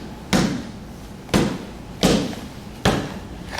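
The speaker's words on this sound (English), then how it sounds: "Then we have some punches" Punches land on a training pad in pistol retention drills, four solid thumps spaced unevenly, close and loud, with no voices.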